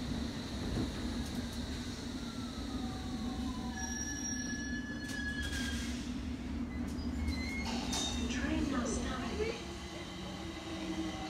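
A London Underground District line train on the Richmond branch pulls away from the platform, its wheels squealing and the motors and rails rumbling steadily and loudly throughout, with no voices.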